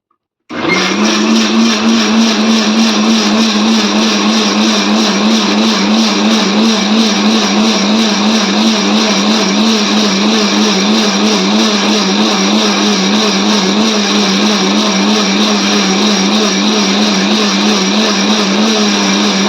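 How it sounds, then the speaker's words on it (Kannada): A mixer grinder blends mango pieces with milk for mango candy, running loud and steady with a constant motor whine from start to finish, with no talking. "ಬನ್ನಿ ಈಗ ಇದನ್ನು ಮಿಕ್ಸಿ ಮಾಡಿಕೊಳ್ಳೋಣ."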